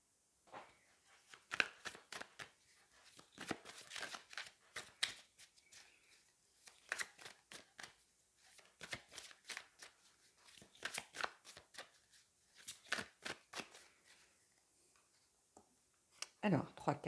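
Tarot cards shuffled by hand, repeated quick riffling bursts and soft slaps in an irregular rhythm, close and fairly quiet, with someone speaking at times between them.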